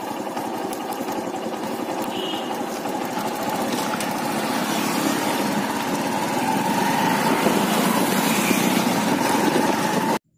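A TVS Star City 110 motorcycle engine runs steadily during a mileage test, giving a continuous buzzing drone with a light rattle that holds constant and close with no pauses.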